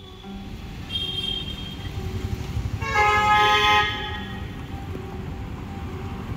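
Traffic at a busy Mumbai street crossroads, a steady road rumble broken by car horns: a short honk near the start, then a louder cluster of overlapping horns in the middle before the traffic noise settles back.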